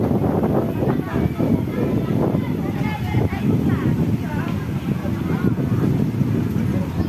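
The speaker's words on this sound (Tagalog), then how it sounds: "Presko mga kaibigan, lakas ng hangin." Strong wind roars steadily across the microphone on a beach, a constant buffeting rumble, with faint voices and outdoor noise mixed in underneath.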